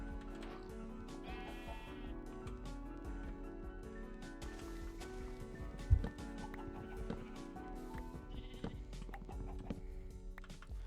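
Blocky Minecraft sheep bleat a couple of times amid steady in-game music and ambient sounds, with a single sharp knock midway through.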